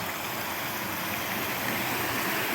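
Creek water flowing beside a gravel road in New York, a steady, close broadband rush and babble with no pauses and no voices.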